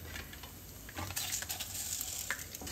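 Mustard and cumin seeds splutter and crackle in hot oil as a tempering for gongura pachadi, a soft, steady sizzle with scattered pops and no voices.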